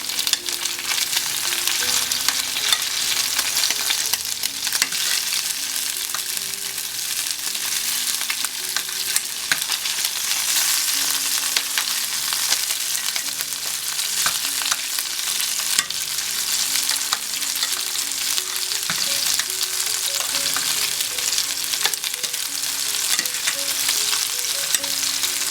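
Lamb chops sizzle in a hot pan, producing dense, steady crackling and spitting that stays loud and close throughout with no voices.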